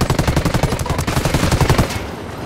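Rapid automatic gunfire aimed at a helicopter in Ghost Recon Wildlands, a loud, close, continuous burst of evenly spaced shots lasting about two seconds before cutting off.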